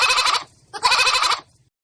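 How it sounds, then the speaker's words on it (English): A goat bleats twice, each call a loud, wavering, harmonic-rich bleat of about half a second, separated by a short pause, close and clear with no talking. "Goat."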